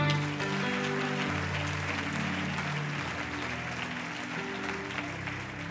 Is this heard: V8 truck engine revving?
no